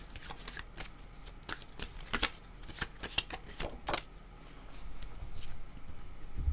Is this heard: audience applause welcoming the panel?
no